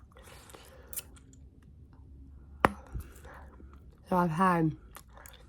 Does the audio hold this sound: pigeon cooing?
no